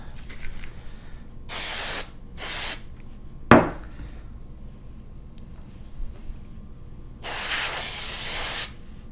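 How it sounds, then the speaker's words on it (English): Lubricant sprays onto a Glock barrel in several short hissing bursts, two close together, then a sharp clack and one longer final spray, close and loud in a quiet room. "I'm going to spray some lubricant"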